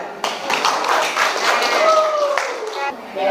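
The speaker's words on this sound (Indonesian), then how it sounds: "Kasih tepuk tangan dulu." Classroom audience of high school students claps hands together, a dense burst of near applause lasting a few seconds with a couple of voices rising briefly through it.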